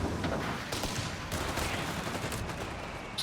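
Humber armored car firing in Company of Heroes 3 against a 250/9 half-track: a dense, continuous rattle of gunfire and battle noise, loud and steady throughout with no speech.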